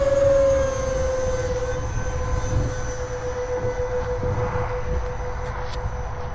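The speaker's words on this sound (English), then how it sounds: "I think I'm going to replace the EDF with the newer one so that you lose the whine." Steady high electric ducted fan whine from an RC F-4 Phantom II jet in flight, a sustained tone over a broad rushing roar that fades slightly after the first moments.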